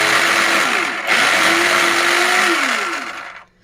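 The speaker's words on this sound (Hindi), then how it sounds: "अब इसमें हम हरा प्याज डाल के इस तरीके से चॉप करेंगे।" An electric chopper whirs loudly at high speed as it chops spring onion, the motor pitch dipping briefly as the load shifts, then winding down and stopping at the end.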